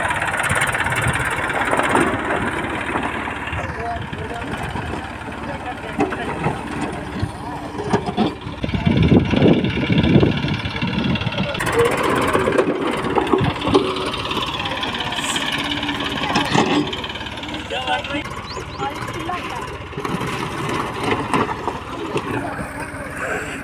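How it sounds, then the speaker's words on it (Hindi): A tractor engine runs steadily while its blade levels a cricket ground, a mid-pitched chugging rumble that continues throughout, with someone talking over it. "यहाँ पर हमारे पॉप भाई ट्रैक्टर पर टंग चुके हैं, पूरा ग्राउंड प्लान हो रहा है यहाँ पर"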